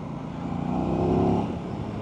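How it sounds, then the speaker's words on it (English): An Aprilia RS660 sport motorcycle roars steadily with a barking airbox induction noise drowning out the exhaust, swelling briefly louder in the middle before easing back, with no voices over it. "It's got a real bark from the airbox. That induction noise is like drowning out the exhaust noise"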